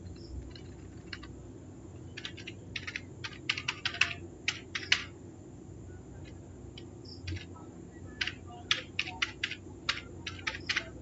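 Typing on a computer keyboard to fill in an online form, with irregular bursts of close key clicks over a low background hum, some quick runs and a few pauses, no talking.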